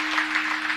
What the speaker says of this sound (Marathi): तुम्ही टाळ्या वाजवताय पण माझ्यावर उपकार केल्यासारख्या वाजवताय महाराज.